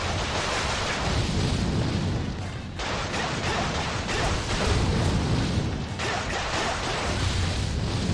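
Cannon blasts from pyro cannons in a castle battle in Dynasty Warriors 8 Xtreme Legends, a dense and continuous roar of booming explosions that stays loud throughout, with a brief dip partway before the rumbling bursts surge again.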